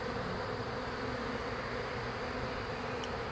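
A swarm of honey bees buzzes as a continuous, dense drone, close and steady, with no pauses and no voices over it.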